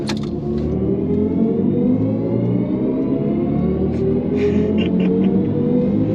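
A BMW i4 electric car's synthetic sport-mode drive hum rises smoothly in pitch as it accelerates at the Nürburgring, loud and continuous, with faint clicks and a brief muffled sound near the end.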